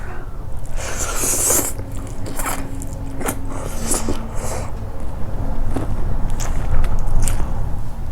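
Close, loud biting and crunchy chewing of spicy bamboo shoot and cooked shrimp papaya salad during a mukbang, irregular crisp crackles and smacks with no speech.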